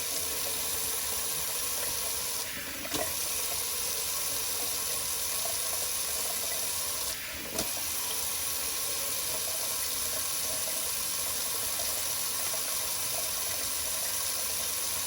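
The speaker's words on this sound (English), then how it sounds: "Gonna drain the old Sea Monster sink." Tap water runs steadily into a sink as it drains, a continuous close-up rushing and splashing interrupted by two brief breaks, with no speech.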